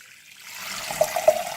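Water pours into a cooking pot, starting quietly and building to a steady splashing trickle within a second or two, close by and alone.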